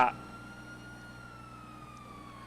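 A police car siren in a video game sounds as a faint, sustained tonal wail that slowly bends in pitch, following a brief thump at the very start.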